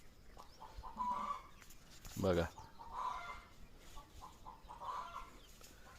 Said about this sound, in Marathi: कोंबडीने अंड घातलं, बहुतेक कोंबडी वरडते.